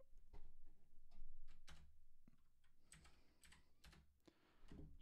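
Someone types a password on a computer keyboard, a quick irregular run of close key taps and clacks in a quiet room.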